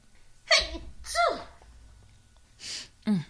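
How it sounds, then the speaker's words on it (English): Two sharp sneezes come close together, each with a quick gasping intake, followed by a breathy exhale and another short sneeze-like burst. "I'm coughing, I'm sneezing."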